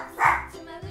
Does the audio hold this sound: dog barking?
yes